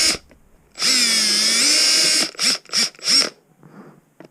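Power drill with a 7/32 bit drilling a hole for an auxiliary light bracket on a Husqvarna dirt bike: one sustained high motor whine for over a second, then three quick bursts of the trigger, close and loud with no talk.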